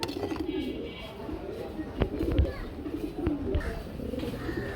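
Grizzle pigeons coo at a pigeon farm, with low, throaty coos repeating close by among other birds while people talk in the background.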